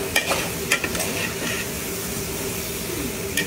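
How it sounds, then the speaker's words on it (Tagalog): Banana heart (puso ng saging) frying in a pan over low heat, a steady close sizzle and hiss with scattered stirring clicks and scrapes throughout, no talk. "parang napipiri-pirito na po yung pinaka-saging niya."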